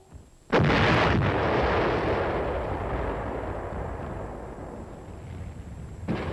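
A heavy artillery gun fires in the Korean War, one loud, close, booming blast that rumbles and slowly fades over several seconds, followed by the start of another shot at the end.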